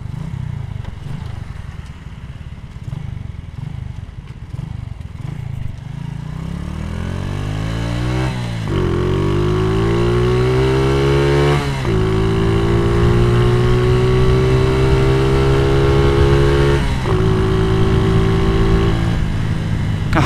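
Motorcycle engine with a VND aftermarket exhaust revs up from idle, pitch climbing in several long pulls with brief drops between them, loud and close with a raspy exhaust tone.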